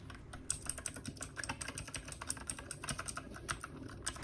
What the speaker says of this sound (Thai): ต่อมาฟังเสียง Blue Switch จาก TK68 กันครับ